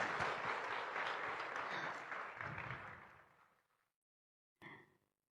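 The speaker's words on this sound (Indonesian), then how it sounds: "Tepuk tangan sekali lagi buat Bapak Menteri kita." A crowd at a discussion event with Indonesia's Minister of Religious Affairs applauding loudly for a few seconds, the clapping fading away to silence, followed by a brief short rustle or thud.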